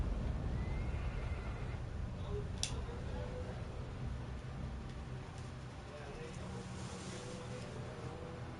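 A horse whinnies in the Shadow of the Colossus video game, a faint, brief call under steady wind and background noise, followed by soft hoof clops and a speaking voice.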